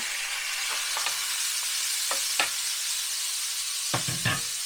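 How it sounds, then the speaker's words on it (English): Food sizzles steadily in a hot skillet at a campground, a constant hiss broken by a few scattered scraping clicks of a utensil. "So I'm going to put it into the skillet."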